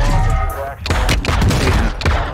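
Sniper and automatic gunfire from Call of Duty DMZ rattles in loud, dense bursts with several sharp shots, layered over dense game noise and a player's voice.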